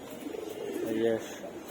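Pigeons of mixed ages in a loft give a brief, soft cooing, a low throaty murmur rising near the middle of the moment, with a voice talking faintly alongside.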